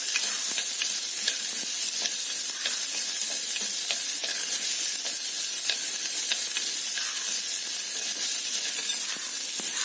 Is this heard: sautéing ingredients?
yes